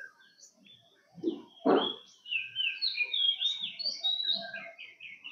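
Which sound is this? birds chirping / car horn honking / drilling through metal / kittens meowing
birds chirping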